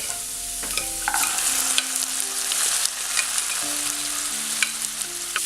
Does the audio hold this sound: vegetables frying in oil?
yes